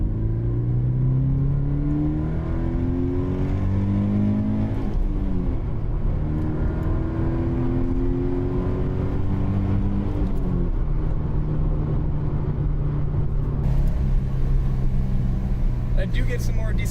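Toyota GT86 with a TRD sound changer, heard from inside with the windows up: a steady engine drone rising and falling through several gear pulls and decelerations, with a voice speaking over it.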